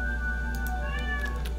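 A cat meows in the Stardew Valley farming game, a short electronic-sounding mew repeated a few times over a steady low hum, with no talking.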